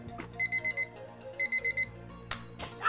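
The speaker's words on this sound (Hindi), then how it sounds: "7 बजे का अलार्म।" An alarm clock rings in two bursts of four rapid, shrill beeps each, clear and close, followed by a couple of soft thumps.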